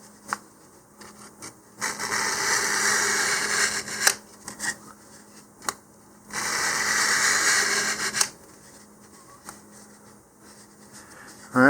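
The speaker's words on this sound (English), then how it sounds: "I'm just going to take some sandpaper here, and I'm just going to run kind of a scratch along each of my fin lines here" Sandpaper scratched in long strokes along the fin lines of a cardboard model rocket body tube, two sustained bursts of rubbing with brief pauses and light handling taps between, close and clear with no talk.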